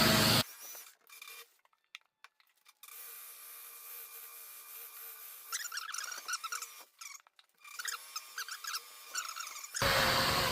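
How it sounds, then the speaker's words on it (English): A rotary buffer polishing the paint on a panel of a 1964 Cadillac Sedan DeVille, run at low RPM, whirring steadily with a rubbing hiss that starts and stops in passes, close by and fairly quiet. "it generally takes three to four passes with the buffer before it's all buffed"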